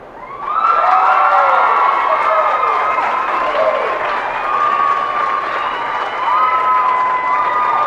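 An audience at a 4-H and FFA beef showmanship and steer show gives a sustained round of applause and cheering for the youth showmen, rising quickly and holding steady, with a voice speaking over the clapping.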